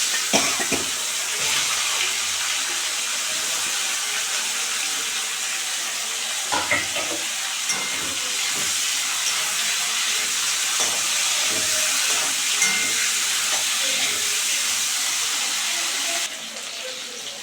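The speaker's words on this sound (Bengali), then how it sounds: "বন্ধুরা সজনে আর আলু ভাজা হয়ে গেছে আমি হালকা করে ভেজেছি" Drumstick pieces and potatoes fry lightly in a pan with salt and turmeric, giving a loud, continuous close-up hiss with scattered small crackles and occasional stirring clatter.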